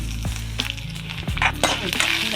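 Crushed garlic hits hot oil with a loud, steady sizzle, and a few scraping stirs of a spoon in the pan join it while curry leaves fry for a leafy greens dal tempering.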